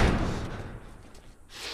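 Doors slam shut while a group barricades them in the video game The Last of Us, a heavy thud at the start followed by lingering rumbling impact noise, close and fairly loud.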